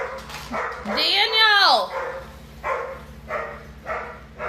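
A big, heavy dog barks and yips repeatedly close by, including a long rising-and-falling whine-like bark, while someone talks over it.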